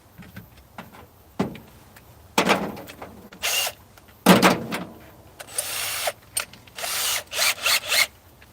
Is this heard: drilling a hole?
yes